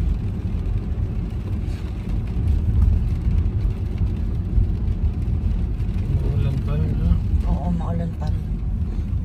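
Cars in road traffic on the drive home from a mall, a constant low engine and road rumble heard from inside a vehicle, with brief voices and a faint tonal chirp near the end.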